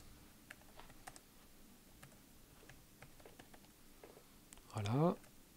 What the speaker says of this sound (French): on va pouvoir par exemple prendre une note rapidement sur le clavier